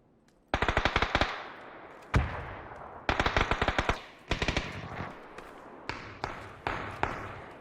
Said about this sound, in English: So after hearing those shots,